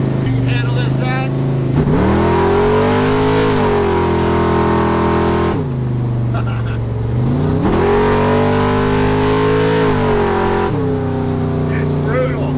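A 1985 Jeep Scrambler engine barks through repeated hard revs close by, each blip climbing sharply then settling back to a throaty idle, with a few faint voices underneath.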